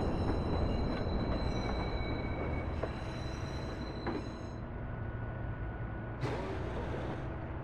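A southbound L train on the Chicago Blue Line in the video game Watch Dogs rumbles into a station with steady wheel roar, a few faint squeals and clanks, then a sharp hiss near the end, with no talking.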